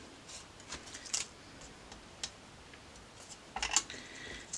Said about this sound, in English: I'm just going to take my scissors before the glue's dry and snip underneath it.